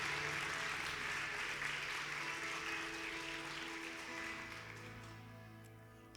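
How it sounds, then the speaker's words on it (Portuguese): Congregation applauding during a church sermon, a steady wash of clapping from a large crowd that gradually fades over several seconds, heard from a distance with a constant low hum underneath. "Aplauda Jesus."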